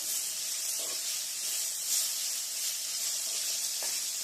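Onions with a little salt sizzle steadily in a hot pan for a sardine fish curry, a continuous close hiss with faint stirring scrapes now and then.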